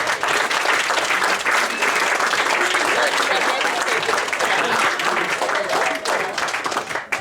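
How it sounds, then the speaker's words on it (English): A room full of people applauds steadily and loudly for several seconds, dense clapping with a few voices mixed in. "can we just give them a round of applause?"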